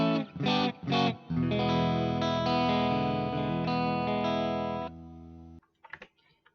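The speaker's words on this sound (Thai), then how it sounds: "อันนี้เสียงคีนก่อนเสียงคีนจากแอมเพียวๆนะครับ" A sustained clean electric guitar tone straight from the amp rings out after a few quick plucked notes, then stops abruptly, leaving near silence with a couple of faint handling taps.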